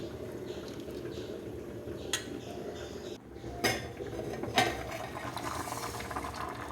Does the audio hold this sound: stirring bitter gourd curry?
yes